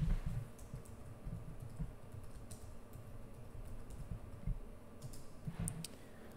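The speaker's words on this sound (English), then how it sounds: "So I'm going to go ahead and type in measure distance." Quick, irregular tapping on a computer keyboard, close and fairly quiet, with clustered keystrokes and brief pauses, no talking.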